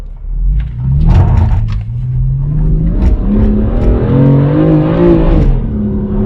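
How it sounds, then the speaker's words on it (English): A BMW M car in Sport Plus mode lurching in first gear, its engine note rising and dipping unevenly in a steady, close, loud drone with surging revs throughout. "I'm gonna demonstrate why this car would jerk if I put the power mode in Sport Plus."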